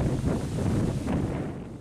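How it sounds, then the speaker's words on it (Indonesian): Fairly strong breeze blowing through rows of coconut palm leaves at Kalitopa beach in Wabula, Buton, a steady windy roar with some buffeting against the microphone. "Angin semilir yang berhembus agak kencang menggoyangkan daun pohon kelapa"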